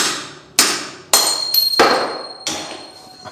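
Metal hammer blows strike a steel bike part in a repair shop, five sharp ringing impacts spaced about half a second apart, loud and close with decaying metallic ring, no voices.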